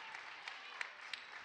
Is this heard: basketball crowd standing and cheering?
yes